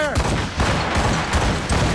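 Ship cannons firing in the naval game Assassin's Creed Rogue, a rapid volley of several booming blasts in quick succession over dense battle noise, with a faint voice mixed in.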